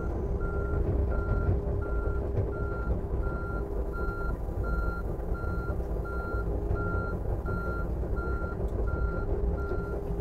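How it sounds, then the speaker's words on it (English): A mini excavator rolls forward on its tracks with a loud, steady engine rumble. A regular travel-alarm beep repeats throughout. "So if I do this, I'm going to drive forwards"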